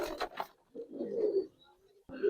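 Giribaz pigeons at a pigeon sale give a few low, throaty coos in short bursts after a brief stretch of talk, with a quieter pause between calls.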